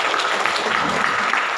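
A seated audience at a teacher education seminar claps steadily, with dense, even applause filling the whole moment at a strong level.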